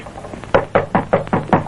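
Sharp knocking on a wooden door, six firm raps in an uneven rhythm, close and loud with no talk over it.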